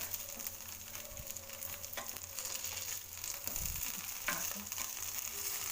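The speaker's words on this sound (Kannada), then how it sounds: "ಇದು ಒಂದು ಕಟ್ಲೆಟ್ ರೆಡಿ ಆಗಿದೆ ಶಾಲು ಫ್ರೈ ಮಾಡ್ತಾ ಇರೋದು" Poha cutlet shallow frying in oil in a pan gives a steady, faint sizzle with small crackles and a few soft scraping knocks throughout.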